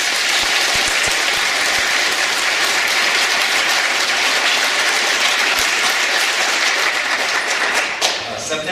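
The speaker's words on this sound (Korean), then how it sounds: "수고하신 우리 찬양대원에게 제대로 박수 한번 하겠습니다" A church congregation applauds the choir after the service music, steady full-room clapping that holds at an even level for several seconds before easing off near the end.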